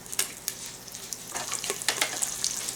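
Olive oil sizzling in a frying pan while carnitas are prepared, a steady close hiss with scattered sharper crackles and spits, no voices.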